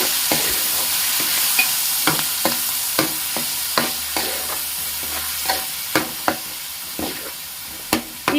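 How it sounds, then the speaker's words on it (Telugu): Onion paste fries in hot oil for a fish curry, with a steady sizzle under regular spoon scrapes against the pan, close and fairly loud. "ఇందులో వేసుకొని బాగా కలుపుకుంటూ వేయించుకోవాలి"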